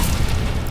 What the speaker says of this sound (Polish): Będzie eksplozję.